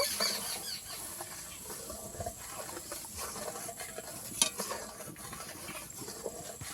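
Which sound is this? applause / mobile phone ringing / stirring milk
stirring milk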